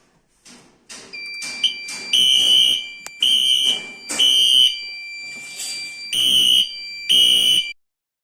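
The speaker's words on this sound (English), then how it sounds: "this is the WHS horn strobe." A Bosch WHS fire alarm horn strobe on a Bosch FPA-1200/FPA-5000 system sounds loud and close, bursts of harsh electronic horn tones in an uneven on-off pattern with short gaps, ending abruptly.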